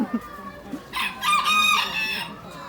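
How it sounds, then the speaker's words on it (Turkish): A rooster crows loudly once, a long strained call, with a few short clucks and faint bird noises around it. "Burada bir şey bağırıyor. Horozmuş."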